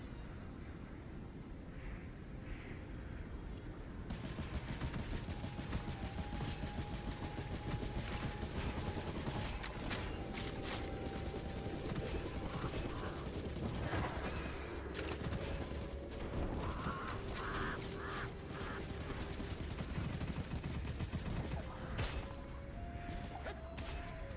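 Rapid gunfire from a pistol in the video game Gunfire Reborn, with quick bursts of shots, clanks and impact crashes over a constant mechanical background hum, continuing through a long stretch of play.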